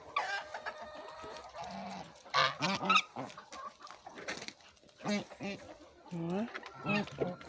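Chickens and geese crowd together at feeding time on a small farm, honking and clucking in loud overlapping bursts close by, with cabbage being handed out; a person talks intermittently among the birds.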